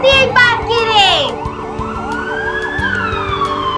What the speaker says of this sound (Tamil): நான் ஒரு அவசர ஊர்தியை பார்க்கிறேன்.